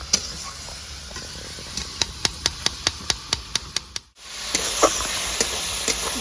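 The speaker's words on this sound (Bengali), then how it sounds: "টমেটোটা ভেজে যাবে, লবণ দেওয়া আছে, তাড়াতাড়ি ভাজবে।" Tomato frying with salt in a pan, a steady close sizzle broken by a quick run of evenly spaced metallic taps from a stirring utensil, then the hiss swells louder.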